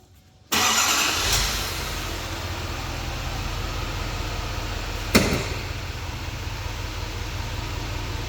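After a brief quiet, a large diesel engine in a 2022 truck with 66,000 km cranks and catches, then settles into a steady, rumbling idle with a sharp clank midway.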